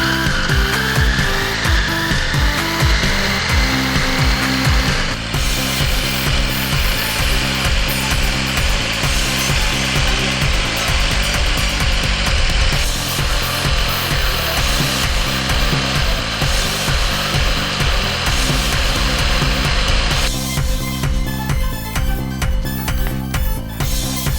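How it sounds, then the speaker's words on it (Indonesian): A kitchen blender grinds spices with added water, galangal and ginger among them, for a spicy Madurese black-sambal duck rice, a loud continuous grinding whir with a rhythmic churn that runs unbroken and shifts pitch slightly toward the end. "Supaya nggak seret ya blendernya. Pencet deh."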